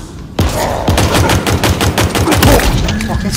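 Rapid, heavy pistol gunfire in the Halo Infinite campaign, a fast string of loud, close shots that bursts in suddenly and keeps going in an even, punchy rhythm over the ambient game noise.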